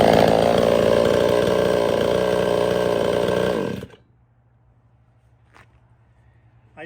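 A Chinese-made two-stroke chainsaw runs loud and close at high revs, then cuts off abruptly, leaving near-silence with a low hum and a couple of faint clicks.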